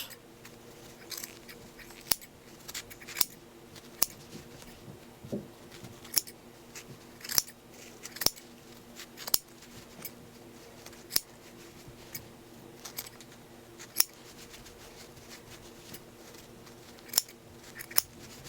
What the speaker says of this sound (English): So you take your scissors and you're just going to go through all the loops.